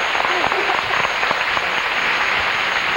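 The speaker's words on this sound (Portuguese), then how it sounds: "Uma salva de palmas para o André." A Brazilian television studio audience applauds a reality-show contestant, loud continuous clapping for about three seconds, with a steady broadcast hum and a voice faintly audible beneath.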